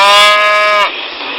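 Cattle lowing loudly and close at a rural roadside stop: one sustained moo for under a second with rich harmonics, then it cuts off into quieter background noise.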